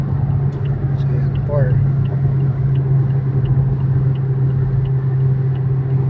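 Car engine rumbling steadily under load during a driving lesson in Lancaster, a loud continuous low drone with a faint voice speaking briefly over it.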